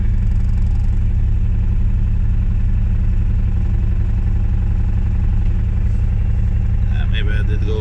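A mini excavator's engine runs at a steady, loud mid-pitched drone while digging, with a brief clank near the end.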